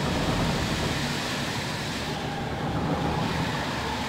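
Loud, constant traffic roar on a bus simulator game map, a dense unbroken wash of road noise with no distinct vehicles standing out and no talk.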